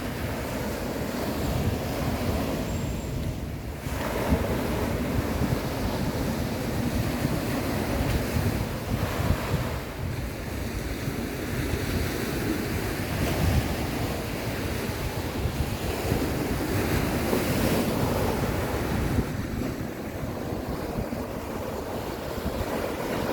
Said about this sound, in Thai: มีลมแรงด้วยเนาะ